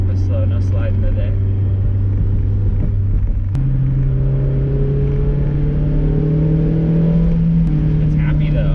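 Mazda MX-5 (NB or ND) engine droning loudly under steady driving throttle, with a step up in pitch partway through as the revs climb, and someone talking over it.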